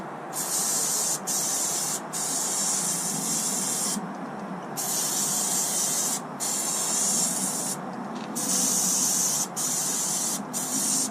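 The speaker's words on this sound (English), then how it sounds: "I'm going to go around it with some maintenance spray" An aerosol maintenance spray hisses loudly into a trailer wheel hub in repeated bursts, each a few seconds long, separated by brief pauses, with no talking.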